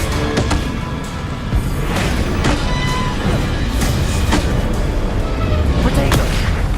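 Explosive spell blasts from a Confringo cast in Hogwarts Legacy, a dense run of booming impacts and crackles over continuous loud game noise, with a player's voice talking throughout.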